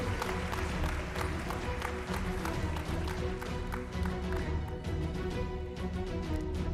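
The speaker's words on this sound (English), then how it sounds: "Can you please give them a round of applause as they come join us?" A crowd at an engineering awards ceremony claps steadily for presenters. The applause is dense and continuous throughout and sounds moderately distant in a large room.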